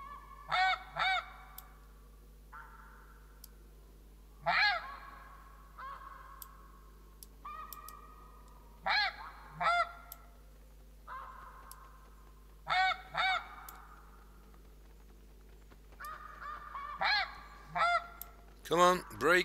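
Snow geese honking in a bow-hunting video game, with repeated bursts of loud clustered calls from an approaching flock at a fairly steady rhythm, gaps of quieter calling in between and a sharp loud burst at the end.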